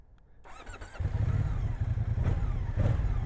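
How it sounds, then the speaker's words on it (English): A 2024 Moto Guzzi Stelvio V-twin motorcycle engine catches after a quiet moment, then revs and rumbles steadily and loudly up close. "This bike sounds surprisingly good."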